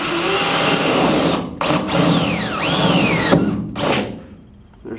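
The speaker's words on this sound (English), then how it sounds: "I will drill a pilot hole, and it's at an angle, it's not square" A power drill bores an angled pilot hole into the quarter panel of a 1965 Mustang, whining in several short bursts with rising and falling pitch as the bit spins up, bites and stops, close and loud.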